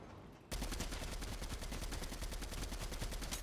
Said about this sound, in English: That guy did not have a chance with us two shooting at him.